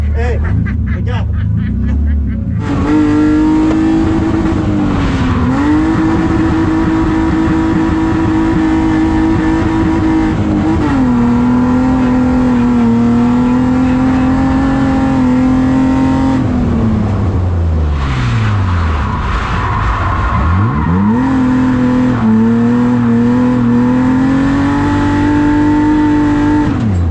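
A drift car's engine revs hard through a drift ride, holding a loud steady drone with repeated dips and swells as the throttle lifts and reopens, pitch sliding down sharply near the end before climbing again.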